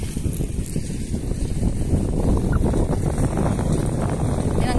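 Strong wind buffets the microphone with a constant low roar and rumble, loud and unbroken for the whole stretch, at Mantangkob River.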